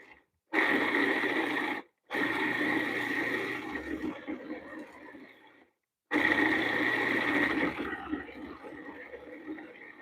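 A food processor pulses dates and nuts in loud whirring bursts, three runs separated by short silences, each grinding on steadily before trailing off.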